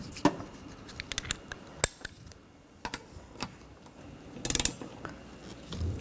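Nuts being tightened on the wiper arms of a 2013-2019 Ford Escape, sharp metallic clicks and short ratcheting bursts spaced irregularly and close by, with quiet gaps between them.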